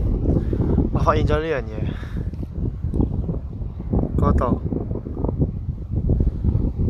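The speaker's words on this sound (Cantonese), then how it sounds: "我終於知道點解呢度係咁大風啦！" Strong wind sweeps a Finnish archipelago on a bikepacking trip, a constant low roar and buffeting on the microphone while a person talks over it.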